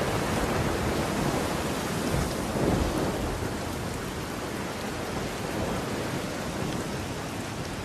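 A thunderstorm with heavy rain marks the start of the rainy season on the land around Kilimanjaro, a dense constant downpour with low rumbling thunder swelling near the middle.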